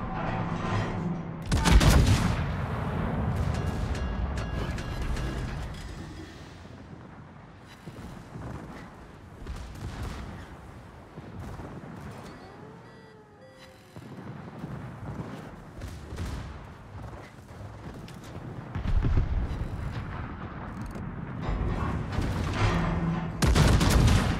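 Heavy naval gunfire from a Tier 10 HMS Thunderer battleship in World of Warships rumbles in repeated deep booming salvos over a continuous battle din, with loud blasts near the start and again toward the end.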